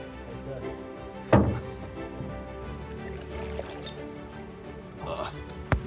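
A phone tips over with one sharp, close thud, followed by a few faint knocks and handling noises, outdoors near a hydroelectric plant in Sweden.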